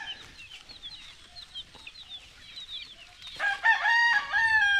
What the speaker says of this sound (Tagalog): Mga 50 yung manok natin dito.